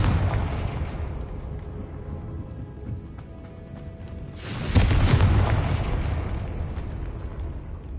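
A Confringo spell in the video game Hogwarts Legacy goes off in a single loud, close blast. A rumbling roar swells and then slowly fades over several seconds above a steady low game ambience.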